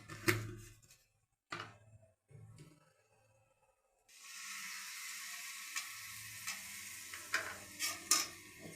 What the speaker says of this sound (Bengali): দিয়ে ভালো করে নাড়াচাড়া করছি।